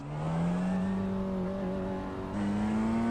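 Engine of a car in a racing video game accelerating hard, a steady rising buzzy whine that dips briefly as it shifts gear, then climbs again, loud and close with no talk.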